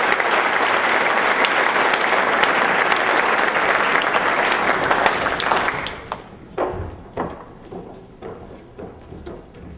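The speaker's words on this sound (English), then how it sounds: "Please give all of these student athletes a big round of applause." A crowd at a spring sports awards ceremony gives student athletes a loud, sustained round of applause that thins after about six seconds into a scattering of separate, fading claps.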